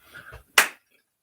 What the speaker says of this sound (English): That's a better clap.